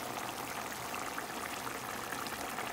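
Chicken methi curry with bay leaf, green chilies, fresh methi and tomato simmers in a lidded pot over medium heat, giving a steady, dense bubbling hiss that holds evenly throughout at moderate level.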